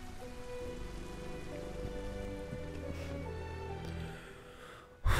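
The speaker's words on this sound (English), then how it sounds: "Why is it always raining?" Steady rain in Detroit: Become Human patters continuously on a surface, with a soft rushing wash and no voices, ending in a brief louder thump.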